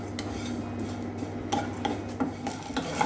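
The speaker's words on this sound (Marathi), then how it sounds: "अर्धी वाटी पोहे आहे। छान असं भाजून घ्यायचे आहे।" Flattened rice (poha) being dry-roasted and stirred in a pan, with a steady scraping rustle and a few sharper spoon-against-metal clinks, close and moderately loud, no voices.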